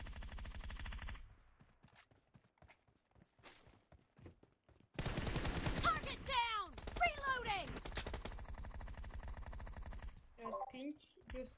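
Automatic gunfire in the mobile battle-royale game PUBG Mobile: scattered sharp shots early on, then a dense, loud stretch of rapid fire mixed with whistling effects, with a player talking over parts of it.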